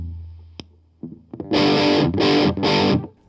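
An electric guitar played through an Amptweaker Big Rock Pro 2 distortion pedal with the smooth switch engaged gives a few picked notes, then three loud, saturated strummed chords, each held and abruptly cut, close and alone.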